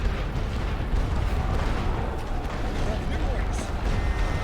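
Heavy artillery barrage in a First World War strategy game, dense continuous rumbling blasts and booms blending into a loud roar, with someone talking over it.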